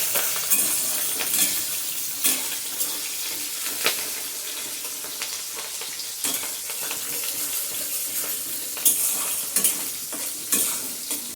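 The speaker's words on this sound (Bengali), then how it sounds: "তেলটা পুরো গরম হয়ে গেছে, এর মধ্যে আছে পেঁয়াজ কুচি আর কাঁচা লঙ্কা কুচি, দিয়ে দিলাম।" Chopped onion and green chili fry in hot oil, giving a loud, continuous sizzle with intermittent scraping and stirring clatter and no voices.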